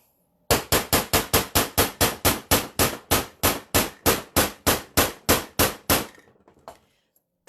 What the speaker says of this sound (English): grab your handy dandy hammer